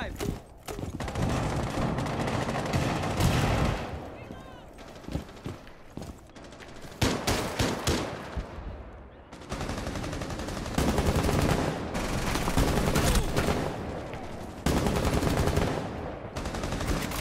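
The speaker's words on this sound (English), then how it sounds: "Cluster shot going live!" Fuze's cluster charge detonating in Rainbow Six Siege, a dense, loud barrage of repeated blasts and gunfire-like cracks running almost continuously, with voices talking over parts of it.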